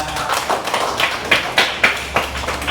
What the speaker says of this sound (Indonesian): tepuk tangan buat anak-anak hebat